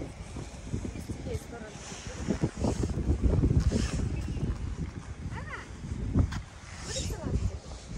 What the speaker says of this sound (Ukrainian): щось вітер розійшовся